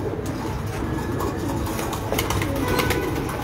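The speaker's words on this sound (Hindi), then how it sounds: "ये लाल परी वाले कबूतर हैं।" Lal Pari breed pigeons coo continuously on a rooftop breeder loft, a steady soft murmur of many birds at close range with no talk over it.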